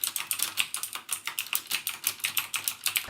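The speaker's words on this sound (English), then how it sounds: "mechanical keyboards are pretty much known for, and it's that clicky sound" Rapid clicky typing on a mechanical keyboard, a steady close-up stream of crisp keystrokes with no voices.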